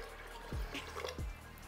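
Filtered water is poured into an Instant Pot in two short splashing bursts, each a quick gush of liquid into the pot with quiet pauses around them.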